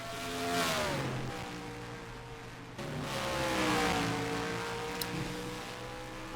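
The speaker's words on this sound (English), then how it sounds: "Ream right now is the only car out on the track" A sim racing race car, the only car out on track during qualifying at Richmond, revs up and shifts gears, its engine pitch rising and falling through two pulls, with no one talking.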